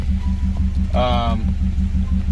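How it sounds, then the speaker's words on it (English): A 1994 Honda Prelude Si's H23 VTEC engine idles with a steady low rumble broken by a regular stumbling pulse from a misfire, heard close up, with a brief voice over the middle. "So you can hear this little misfire"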